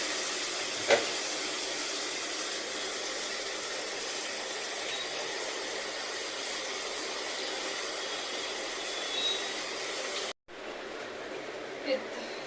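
Tomato and crushed green chillies frying in a pan make a loud, steady hiss that runs unbroken. It drops out briefly near the end, then resumes.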